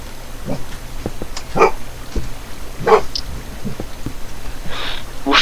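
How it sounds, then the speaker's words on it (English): A pet dog barks and yips several times at uneven intervals, some barks sharp and others softer with a slight whimper, heard at moderate distance indoors. "it's my dog."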